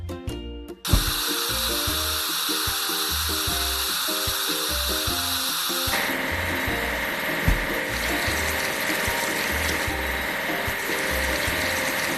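Cartoon water sprays a truck in a steady hissing wash with a pump-like hum. It plays over a looping, tonal background music track, with a couple of brief thumps.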